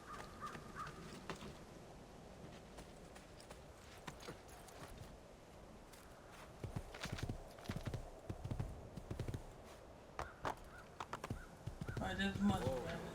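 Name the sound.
horse hooves in a video game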